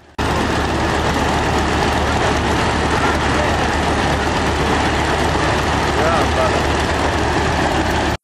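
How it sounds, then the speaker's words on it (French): A homemade propeller aircraft engine runs steadily before takeoff, with its flapping propeller giving a loud, continuous, dense drone that stays close and unbroken throughout. "En attendant le décollage, le moteur tourne."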